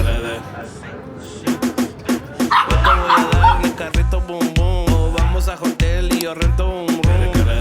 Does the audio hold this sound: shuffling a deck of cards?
no